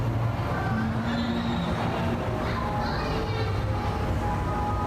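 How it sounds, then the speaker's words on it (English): A train rolls in with rumbling wheels, squealing metal and a low engine drone, while children's voices and chatter carry over the noise. "I don't need to show the entire arrival of the train."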